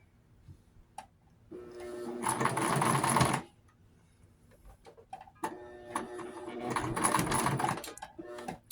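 A domestic sewing machine stitches fabric in two bursts of steady mechanical whirring, each lasting a couple of seconds, with a quiet pause between them and faint handling noises.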